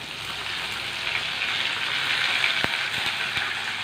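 Dried red chillies and curry leaves hit hot oil for a sambar tempering, producing a steady, close hiss of frying with a few sharp pops near the end.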